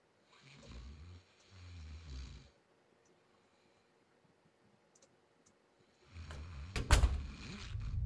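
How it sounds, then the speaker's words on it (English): Loud snoring in The Sandman video game, two deep rumbling snores close by in the first few seconds, then quiet before a louder noisy burst of rattling sound near the end. "Snoring loudly."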